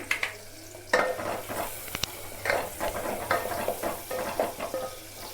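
Onions frying with turmeric in a pan, a soft steady sizzle broken by scraping stirs and occasional clinks of a utensil against the pan, fairly quiet and close.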